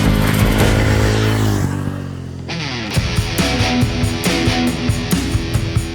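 A Yezdi Roadster motorcycle engine runs while riding: a loud revving drone rises through the gears, dips at a shift, then pulses in a rhythmic throbbing beat with clattery mechanical texture.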